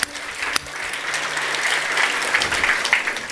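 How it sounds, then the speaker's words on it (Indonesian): A congregation claps during a church worship service, steady dense applause from many hands lasting a few seconds, fairly loud and close, with no talking over it. "Kita beri tepuk tangan."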